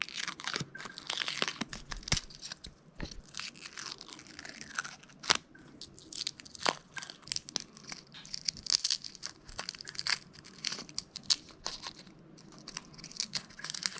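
Garlic cloves are peeled by hand at close range, dry papery skins crackling and tearing in irregular crisp bursts with occasional sharper snaps, quiet and unaccompanied.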